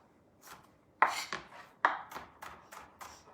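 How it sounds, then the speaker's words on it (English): A knife chops pepper on a cutting board for guacamole, a run of sharp, close thuds that starts with two strong strikes and then comes in quicker, lighter taps. "So I'm just chopping it up,"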